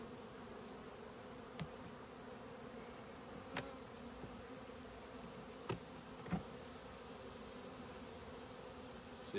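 Bees in the bottom box of a hive troubled by hive beetle larvae give a steady, faint, close hum, with a few soft knocks and taps scattered through.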